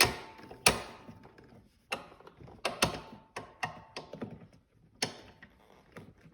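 A rear shock being screwed in on a Honda Navi, with a run of sharp clicks and ratcheting taps spaced irregularly, close and fairly quiet with silence between them.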